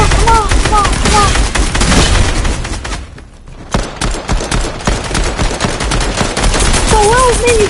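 Rapid automatic gunfire bursts in the video game Fortnite, loud dense volleys with a brief lull midway, mixed with game sound effects and some voice in the background.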